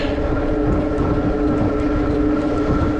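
A Himiway Cobra electric fat bike is ridden while shifting through its gears, with a loud, constant droning hum of motor and wind rushing close by throughout, and no talk.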